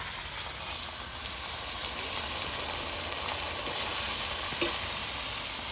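Ginger-garlic paste with chilli and cumin paste, salt and turmeric sizzles steadily as it is stirred in a pan for chicken dum biryani, a continuous frying hiss with faint scraping and one brief clink near the end.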